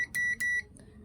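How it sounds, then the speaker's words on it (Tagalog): Two short, clean electronic beeps from a multimeter in buzzer continuity mode as its probes short across an SPDT relay on a Class D amplifier, each beep about two tenths of a second, loud and close. "Rinig yung buzzer."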